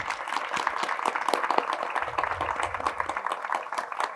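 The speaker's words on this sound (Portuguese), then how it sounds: "por favor, uma salva de palmas para o livro" An audience at a book talk in Paracatu applauds, a dense crackle of many hands clapping steadily throughout, with a faint low rumble partway through.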